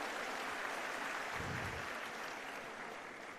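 A rally crowd claps to welcome Sanjay Raut, a dense, steady wash of applause held at full loudness throughout, easing only slightly toward the end, with no voices standing out.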